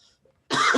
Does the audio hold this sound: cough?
yes